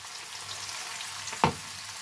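Onions frying in a pan for tuna noodles, a steady soft sizzle close by with one brief stir-like clatter partway through and no talking.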